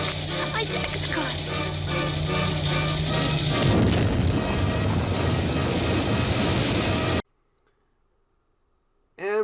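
A loud, sustained roaring blast with rumbling debris from an explosion in the film Night of the Living Dead fills the scene, then cuts abruptly to near silence before a brief sound at the end.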